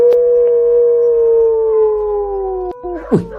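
A dog howls in one long, sustained, slowly falling wail, loud and close, ending in a few shorter yelping cries, with no talk over it.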